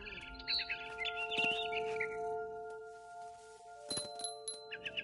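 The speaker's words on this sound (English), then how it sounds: "It was a barn swallow going back to her nest." A barn swallow chirps in What Remains of Edith Finch, with bright clustered tweets near the start, a lone call around the middle and more bursts toward the end, set over a steady tonal game ambience.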